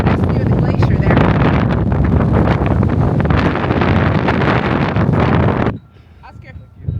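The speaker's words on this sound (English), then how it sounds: "I don't know how much longer I can stand this wind." Strong mountain wind near a glacier above Grindelwald buffets the microphone in a loud, roaring rumble that drops away abruptly near the end, leaving faint background noise; speech is partly heard under the wind.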